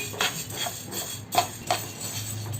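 Fenugreek seeds are stirred with a spoon as they dry roast in a pan, giving several close, light metallic scrapes and taps at a steady, unhurried rhythm.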